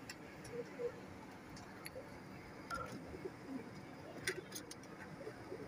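A pair of teddy pigeons coo softly in short, faint calls scattered over a steady background hum, with a few brief sharper chirps mixed in.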